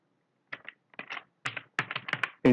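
Someone types a C program on a computer keyboard, with close, sharp keystrokes in irregular bursts that get denser and louder toward the end.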